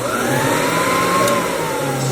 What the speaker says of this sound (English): this is the vacuum system, and it literally works today. You just turn it on.